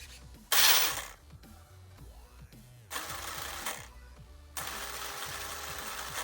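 A small RC model motor spins up on a Spektrum Firma 160 ESC, giving a faint mechanical whir with a sharp burst at the start and steady running hum in stretches.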